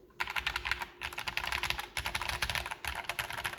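Rapid, steady typing on an NZXT Function mechanical keyboard with linear switches, smooth, even keystrokes in quick bursts separated by brief pauses, close up.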